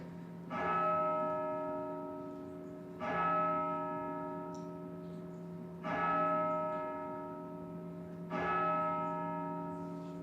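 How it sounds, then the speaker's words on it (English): A church bell tolls four times during a county zoning appeals board meeting, each strike loud and ringing with a long, resonant hum that fades slowly before the next, no talking over it. "Pause for the bell."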